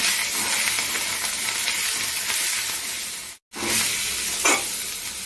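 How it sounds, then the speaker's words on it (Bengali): Ginger paste and slit green chillies fry in a pan with a loud, steady sizzle as a spoon stirs them, broken by one brief silent gap. "আদা বাটা, কিছু কাঁচা লঙ্কা চেরা দিয়ে ভালো করে নেড়ে চেড়ে নেব।"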